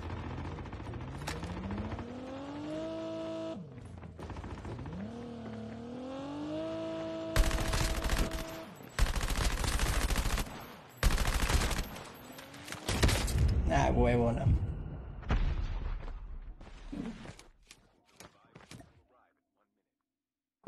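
Bursts of Call of Duty gunfire crackle in rapid volleys over a steady engine-like drone, with someone talking excitedly throughout.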